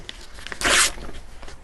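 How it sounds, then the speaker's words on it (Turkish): Paper is torn by hand for a worm compost bed, one short loud rip in the middle, close up, with quieter rustling of paper around it. "biraz kağıt yırtmamız gerekiyor"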